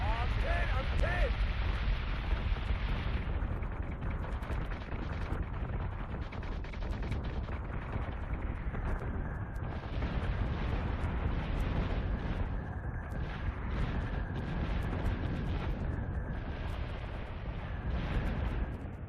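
Warship batteries fire in Battlestar Galactica Deadlock, a dense, continuous roar of heavy booming gunfire and explosions that runs without pause under combat voices.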